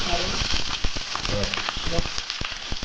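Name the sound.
mustard seeds spluttering in hot oil for tempering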